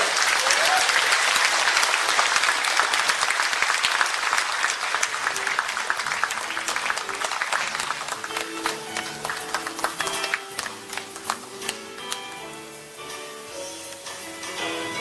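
A hall audience at a Taebaek briefing on Gangwon Special Self-Governing Province applauds a speaker. The thick clapping fades after several seconds as soft background music rises beneath the last scattered claps.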